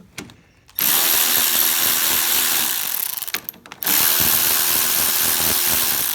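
A power tool spins off 10mm bolts from the top of a Troy-Bilt Storm 2620 snow thrower, with two long loud whirring bursts separated by a brief pause and ratcheting clicks.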